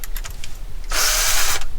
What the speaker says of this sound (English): what I've seen people do is actually just drill out these screws right here.